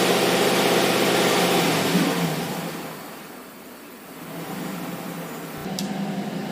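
A 2010 GMC truck on a road test with a cylinder misfire, its engine humming steadily from inside the cab, easing off midway and then building again under steady road and wind noise.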